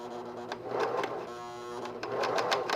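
A home sewing machine stitching along the edge of a neckband on a men's raglan shirt, a rapid mechanical whir in bursts with a brief pause in between.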